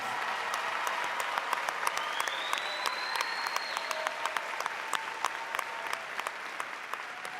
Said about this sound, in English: Please join me in applauding these outstanding academic scholars